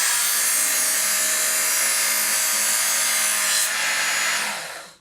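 A knife blade is drawn slowly and steadily through wood with a loud, continuous hissing rasp that breaks off abruptly near the end.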